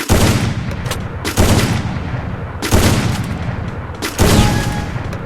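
Loud bursts of automatic gunfire in the mobile shooter Free Fire, Lone Wolf mode, arriving in about four dense volleys separated by brief gaps, close and harsh with no voices over them.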